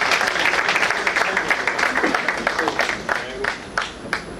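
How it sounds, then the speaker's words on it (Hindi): An audience claps to welcome the president at an Independence Day function, with sustained, dense applause from a crowd in a hall that thins slightly toward the end. "Please तालियों से हमारे प्रेसिडेंट साहब का स्वागत करें।"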